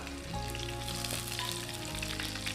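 Curry leaves and dried red chillies fry in hot oil for a karpooravalli rasam, giving a dense, loud, continuous sizzle close up with light stirring and no voices.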